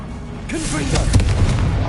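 A Confringo blasting spell goes off in Hogwarts Legacy, a sharp burst of noise and then a loud rumbling roar that carries on through the rest of the moment, close and heavy, with game voices mixed in.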